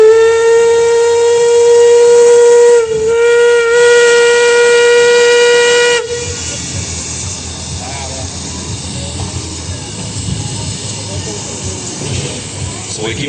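A huge steam locomotive shunting onto a siding at a turntable locomotive display blows a long, loud, steady whistle for about six seconds, then rumbles and hisses on as people talk faintly in the background.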